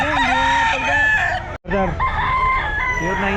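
Several roosters crow loudly and close together at a Grotto pet market, long overlapping calls filling the scene with a short break midway, while someone briefly speaks over them.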